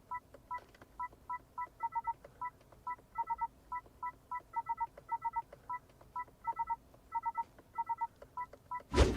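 A Honda CR-V control gives short electronic beeps as it is pressed in different directions, quick clusters of two to four tones in a steady rhythm, close and clear, ending with a brief thump.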